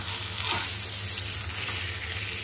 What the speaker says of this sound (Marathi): आता आपण दुसऱ्या साईडने सुद्धा पलटून घेऊया.